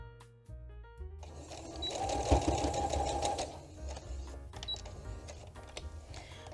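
A sewing machine stitches a sweatshirt shoulder seam, with a backstitch at the start, running in a fast, steady mechanical burst for a few seconds close by before slowing down.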